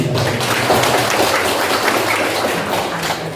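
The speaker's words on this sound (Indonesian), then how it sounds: "Tepuk tangan yang meriah" An audience at a parenting seminar claps continuously, a dense wash of many hands applauding steadily for a few seconds with no voices.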